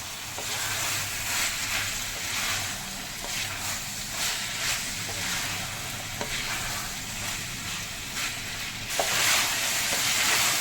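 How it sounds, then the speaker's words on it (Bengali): Frozen green peas fry in a hot pan as they are stirred and mixed, a continuous close sizzle broken by occasional scraping and clinking of the spoon. "ফ্রোজেন কড়াইশুঁটি এর মধ্যে দিয়ে দিলাম এবার ভালো করে মিক্স করে নিয়ে কষিয়ে নেব"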